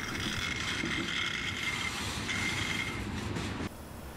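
Train coming up the rail line in Scranton, northeastern Pennsylvania, a continuous loud rumble and metallic wheel squeal as the cars roll past, ending in a sudden drop near the close.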